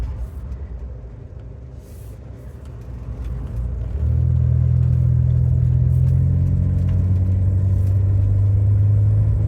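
A 1967 Humber Hawk with an automatic gearbox drives along, its engine rumble low and steady, then rising into a louder, sustained drone about halfway through, heard up close with no talking.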